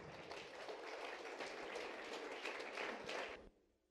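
A church congregation applauds during a sermon, giving a dense, steady wash of clapping for about three and a half seconds before it abruptly drops away, moderately loud and with no talk over it.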